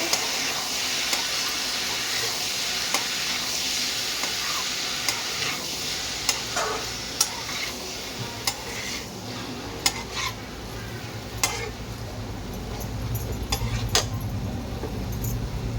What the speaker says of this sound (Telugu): పొటాటో ఇలా వేసుకున్న తర్వాత బాగా కలుపుకోవాలి.